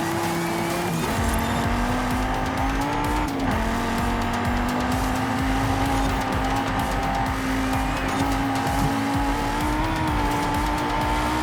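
A Donkervoort D8 GTO in Forza Horizon 5 drones at sustained high revs, its engine note shifting as the tires squeal through a sliding corner, loud and continuous with no talking.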